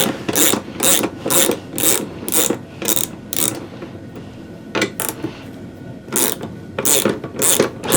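A ratchet loosens bolts on a snow blower, its loud, close clicking coming in steady repeated bursts with brief pauses between strokes.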